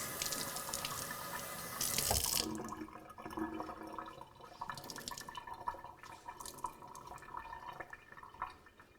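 Water runs from a kitchen tap onto roasting chestnuts, a loud rushing burst in the first two seconds, then quieter splashing and dripping as the flow stops.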